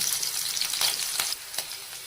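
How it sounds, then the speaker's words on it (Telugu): Onions fry in a pan for a Chicken 65 snack, giving a close, steady hiss and sizzle with a few faint stirring scrapes, and no talking. "ఈ ఆనియన్స్ ఎక్కువ ఫ్రై అవ్వాల్సిన అవసరం లేదండి, జస్ట్ మెత్తపడితే చాలు"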